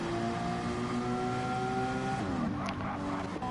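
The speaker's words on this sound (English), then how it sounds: "You hear the tyres." A race car in a sim racing game drones steadily with a constant engine tone and tyre noise, a brief squeal-like pitch drop near the end, under faint commentary.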